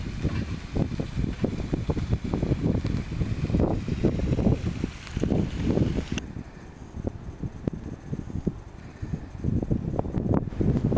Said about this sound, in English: Hopefully the wind dies off a little bit, but if not, you know, it's one of them things and it can't be helped.